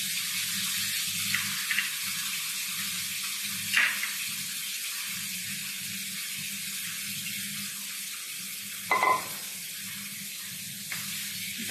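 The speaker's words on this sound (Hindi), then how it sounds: "अब मैं इसमें शामिल कर रही हूँ दाल।" Drained urad dal tipped into a pan of frying masala for Punjabi-style dal mash gives a steady, close sizzling hiss, with a few brief clatters and splashes along the way.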